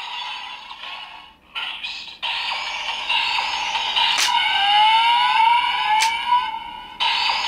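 A DX Magnum Shooter 40X toy gun plays its electronic boost sound effect: loud, siren-like synthetic tones with rising and falling sweeps and a few sharp bursts, continuing for several seconds without speech.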